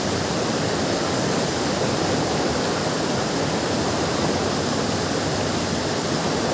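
A strong river in flood rushing and roaring without a break, a loud, steady wash of water with no voices over it.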